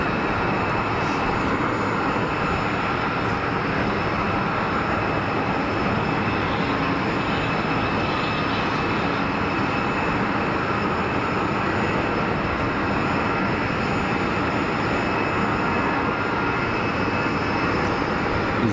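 An easyJet airliner at Geneva Airport gives a steady, broadband jet-engine roar that stays loud and constant throughout, with no talk over it.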